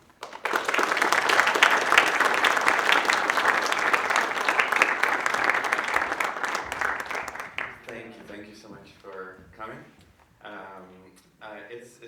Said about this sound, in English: join me in giving a big round of applause to Juan Carlos